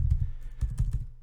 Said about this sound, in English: you'll see as I'm typing it's actually giving me a preview up here